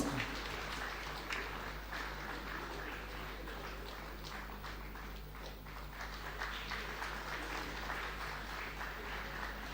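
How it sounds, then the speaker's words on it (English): A crowd applauds at an outdoor flag-off event for eco-friendly electric two-wheelers and auto rickshaws on the roads of Tirupati, with dense, steady clapping and crowd noise lasting throughout. "I request all of you to please put your hands together and give a huge round of applause."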